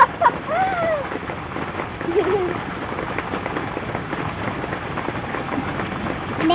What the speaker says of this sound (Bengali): বৃষ্টি হচ্ছে